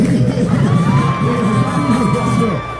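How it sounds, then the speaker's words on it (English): A street crowd at night in Midtown Manhattan cheers and shouts together around a performer, loud and continuous, with voices and a whistle-like tone riding over the noise. "No, don't clap for that. Don't scream for that."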